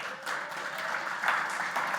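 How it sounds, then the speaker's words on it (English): An audience at a tech program finale applauds, a steady, moderately loud wash of clapping throughout. "Another round of applause for them."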